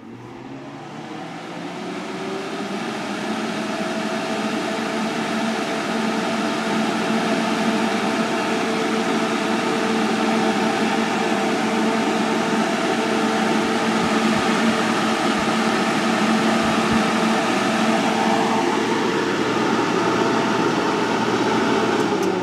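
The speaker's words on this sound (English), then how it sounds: "I set the heater back in my little work area here that I like to spot heat" A small space heater's fan, driven by an AC sleeve-bearing motor that has been cleaned and oiled, spins up and runs with a steady, even whir and hum, with no speech.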